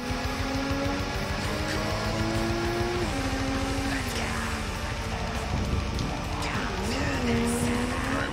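A car driven in Cyberpunk 2077 hums with a steady, loud engine tone that rises and falls in pitch as it shifts, with brief tire squeals and skids mixed in across the whole stretch.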